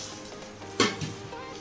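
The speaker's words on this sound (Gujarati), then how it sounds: "ઘી ગરમ થાય એટલે આપણે તેમાં સેવ નાખીશું." Broken sev noodles drop into hot ghee in a pan, giving a steady sizzle with a sharp clatter as they go in and light stirring scrapes after.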